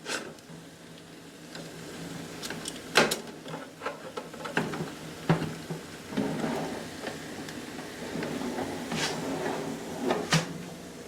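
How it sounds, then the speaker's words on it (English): Someone opens an oven to take out Jamaican-style jerk pork, giving a few soft clicks, knocks and clunks of the door and tray in a quiet kitchen. "My pork is ready. I am going to move it from the oven."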